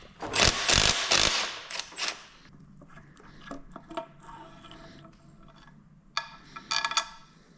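Ratchet clicking as it works the single oil pump bolt off a locked-up Chevy 350 engine, with loud bursts of metallic clicks early on, then quieter tool scrapes and mechanical clatter, and a final flurry of ratcheting.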